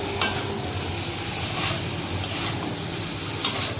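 Cauliflower pieces frying in a pan, with a steady close sizzle and occasional stirring scrapes running through the whole stretch.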